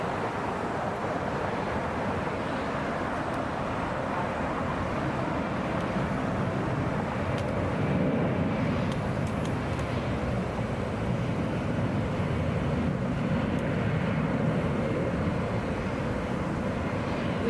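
A Delta Airlines Boeing 757 climbs away after takeoff from Atlanta's Hartsfield-Jackson airport, a steady, broad jet roar held at a distance for the whole stretch with slight swells and no talk.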